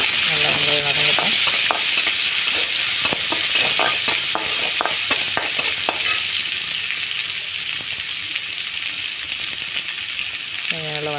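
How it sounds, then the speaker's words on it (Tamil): Onions sauté and sizzle steadily in a hot pan for a bean gravy, a dense continuous frying hiss with a spoon stirring and tapping against the pan in quick bursts. "நல்லா வெங்காயம் வதங்கட்டும்."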